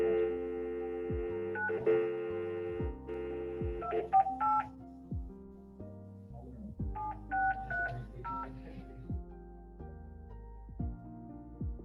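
Telephone dialing tones sound on a call line joining a Zoom court hearing: a series of steady electronic beeps in short clusters, fairly close and clear, with no voices over them.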